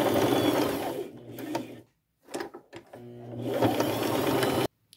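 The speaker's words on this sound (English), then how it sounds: "I will take the straight stitch, sew across right here, come down at the bottom of this band," A sewing machine straight-stitches trim across a fabric band on a boho pouch necklace, running in a loud, close mechanical whir with a steady hum, stopping briefly midway, then starting again before cutting off.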